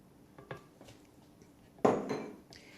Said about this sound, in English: I'm going to add my eggs, my 4 large eggs.